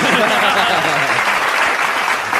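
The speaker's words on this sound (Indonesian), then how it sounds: "Tepuk tangan sih." A brief burst of audience applause for Chef Rudy, a loud, dense, continuous clatter of many hands with no gaps.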